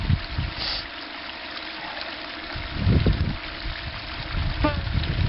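Water runs through clear tubing fitted with a spray nozzle during a river sandbox mining setup, a steady rushing hiss with a few louder gurgling surges, close and without talk.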